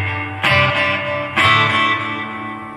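Electric guitar played through a Fender Champion 40 amplifier with a delay effect plus reverb, two strummed chords each ringing out with lingering repeats and a washy tail.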